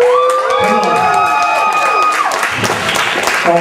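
Concert audience at a show cheering, clapping and yelling, a dense sustained roar of applause and shouts that stays loud throughout, with a few whoops rising above the crowd.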